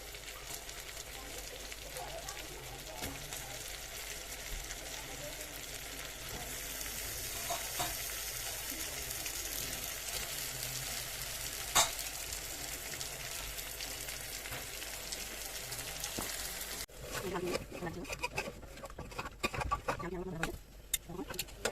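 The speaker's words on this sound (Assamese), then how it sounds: "ইয়াতে দিম মই এতিয়া আলুখিনি দি আকৌ অলপ সময় ভাজি ল'ম" Meat and potatoes fry in a pan ahead of pressure cooking, a dense continuous sizzle with occasional stirring scrapes, loud and close, while a voice talks over it and the texture changes near the end.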